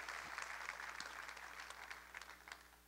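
Congregation applause during a church service, a faint, distant patter of clapping that carries on evenly and fades slightly toward the end.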